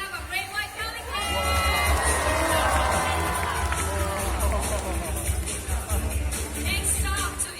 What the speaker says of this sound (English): Can we give Vega another round of applause?